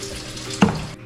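Tap water runs into a bowl for yeast in a home kitchen, a short close splash and gurgle that swells briefly and then stops, with no voices.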